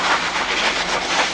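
A train runs along a coffee-hauling railway, a steady loud rushing rumble with a faint rhythmic wash and no gaps or voices across the short stretch.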